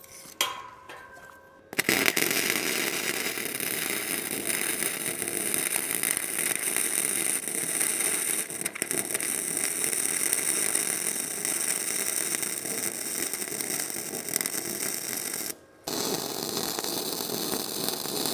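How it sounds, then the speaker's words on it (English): Welding a corner of a raw steel hangar-style door frame, with a loud, continuous crackling sizzle that starts after a short pause and runs steadily, broken by one brief stop near the end. "we're gonna go ahead and weld this one more than the rest"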